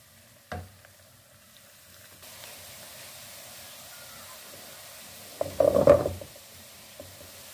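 Cumin seeds, green chili and ginger hit hot oil for a Indian-style moong dal tarka, bursting into a loud sizzle near the end after a quieter low crackle, with a brief clack as they are stirred.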